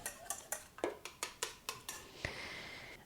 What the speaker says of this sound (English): Then whisk your egg a bit.